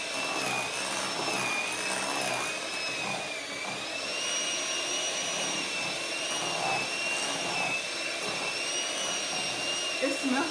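An electric mixer whirs steadily through pound cake batter as pudding is blended in, a continuous high-pitched motor whine with slight shifts in pitch and a faint clatter near the end.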